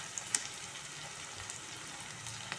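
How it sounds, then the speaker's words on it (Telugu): Onion and green chillies fry in a pan with a steady, close sizzle and a few faint pops. No voice can be heard. "కొద్దిగా ఫ్రై అవ్వాలి. చూడండి, హాఫ్ ఫ్రై అయిపోయింది మనకు."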